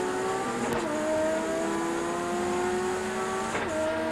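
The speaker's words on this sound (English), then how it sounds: "There it is with the Peter Jackson car getting off." The Peter Jackson touring car from the 1990 Australian Touring Car Championship accelerates hard off the start, its engine note climbing steadily through the gears, loud and continuous with other racing engines around.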